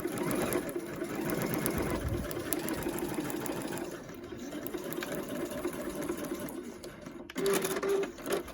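A sewing machine stitches a sleeve in bursts of rapid mechanical whirring, close and fairly quiet, with short pauses and a brief faster run near the end.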